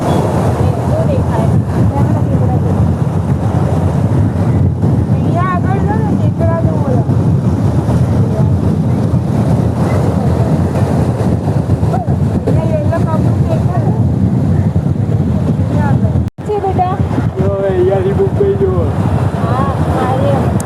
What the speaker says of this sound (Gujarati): જો કેવું મસ્ત વ્યૂ ને એટલો મસ્ત ઠંડો ઠંડો પવન આવે છે.